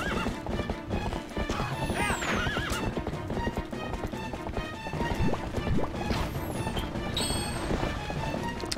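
Galloping hooves clop steadily and a horse whinnies during mounted play in Zelda Twilight Princess, the hoofbeats loud and constant amid game music and effects.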